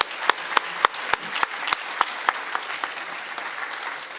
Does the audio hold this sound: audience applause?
yes